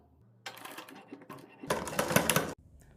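A sewing machine stitches decorative cords onto a kurti neck pattern in two close bursts of rapid whirring and clattering, separated by a short pause.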